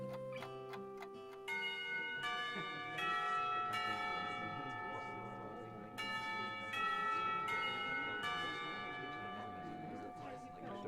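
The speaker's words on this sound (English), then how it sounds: "I rub my eyes as the lunch bell rings out" A school lunch bell in the Katawa Shoujo visual novel game chimes a steady sequence of bright bell tones, each ringing on over the last and repeating in a melodic pattern, fairly loud and clear with no talking.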